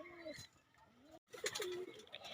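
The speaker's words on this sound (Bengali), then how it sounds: "এই দেখো বন্ধুরা কবুতরগুলো, টাডি কবুতর জোড়" Pigeons coo softly from a home loft of fancy breeds, including a tumbler pair and young golden pigeons, with a few short calls and chirps broken by a brief gap.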